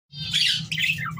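Australian parrots, budgerigars kept with clay nesting pots, squawk loudly and continuously in shrill, close overlapping calls over a steady low hum.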